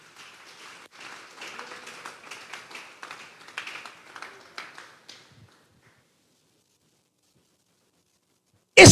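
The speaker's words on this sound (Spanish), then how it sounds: "Vamos a darle un fuerte aplauso pues al Señor." A church congregation at a Sunday service claps in a moderate, fairly faint round of applause, with a few louder accents. The clapping fades out after about five seconds and leaves near silence.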